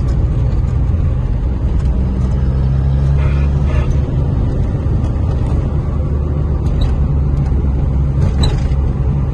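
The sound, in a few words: Peugeot 205 driving on a rough road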